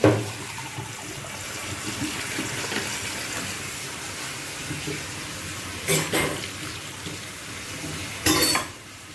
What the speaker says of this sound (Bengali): আমি ফিল্টারে জলটা ভরছি